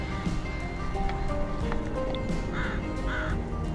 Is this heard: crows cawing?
yes